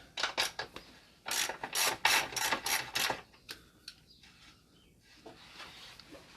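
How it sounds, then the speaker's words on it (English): A ratchet loosens the rear axle nut on a Yamaha YZF R125 motorcycle, giving close, loud bursts of rapid clicking in quick strokes, then a few quieter, sparser clicks near the end with no talking. "Okay, that's the axle nut loose."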